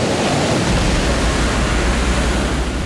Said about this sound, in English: You gotta be really careful about the waves here. There's some really nasty waves coming in.